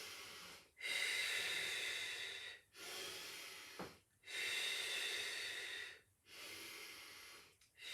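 Slow, steady breaths during a Pilates exercise, several long airy inhales and exhales in an even rhythm with brief pauses between them, close and quiet, with no speech.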